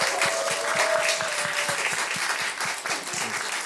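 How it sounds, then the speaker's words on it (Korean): A church congregation at a Sunday service applauds to welcome newly registered families, steady clapping from many hands filling the hall, with a faint voice underneath. "우리 박수로 환영하도록 하겠습니다"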